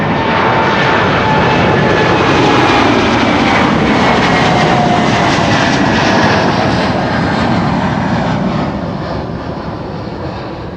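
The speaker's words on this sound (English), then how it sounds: "American Airlines over here, flight 221 to Dallas," An American Airlines jet on flight 221 to Dallas takes off, its engines a loud, steady roar that holds for several seconds and then slowly fades as the aircraft climbs away.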